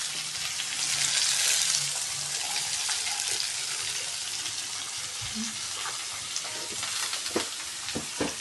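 Vegetables fry in a pan of hot oil with garlic, curry leaves and turmeric as a spoon stirs them, giving a soft steady sizzle with scattered scraping clicks from the spoon, fairly quiet.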